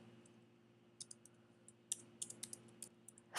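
Light, uneven clicks of fingers typing CSS code on a computer keyboard, quiet and close, arriving in small clusters over a faint steady hum, with no talk.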